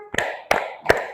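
Three sharp hand claps land about a third of a second apart, close and crisp, keeping time for a children's action song about clapping elbows, shoulders and hands.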